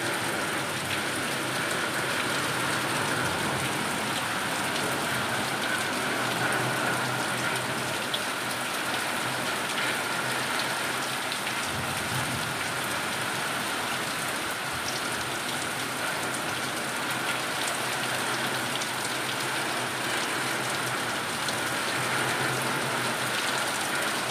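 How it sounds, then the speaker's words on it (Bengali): Heavy rain pours in a dark, rainy evening, a dense and constant roar of drops on surfaces that runs unbroken and fairly loud throughout. "মারাত্মক জোরে বৃষ্টি শুরু হয়েছে"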